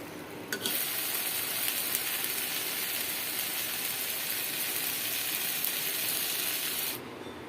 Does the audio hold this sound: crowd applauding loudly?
no